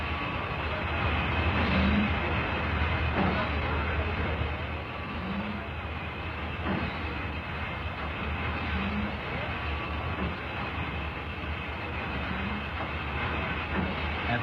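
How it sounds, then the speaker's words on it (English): The ex-Southern Pacific GS4 steam locomotive 4449 hauls the 1976 American Freedom Train in Southern California, a steady, fairly distant rolling rumble with a faint clatter, holding level throughout. "The American Freedom Train is pulled by the magnificent ex-Southern Pacific GS4 class locomotive"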